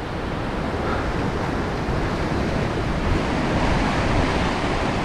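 Steady roar of ocean surf at a fishing point, broad and continuous, with waves washing in over wind rumble; no voices, fairly loud throughout.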